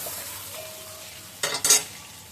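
Green chilli and coriander leaves frying in a pan, a soft steady sizzle with a couple of sharp stirring scrapes near the end.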